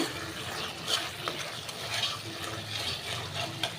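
A spatula stirs paneer-based vegetarian food frying in oil in a pan, steady scraping and sizzling with soft clattering strokes at a close, even level.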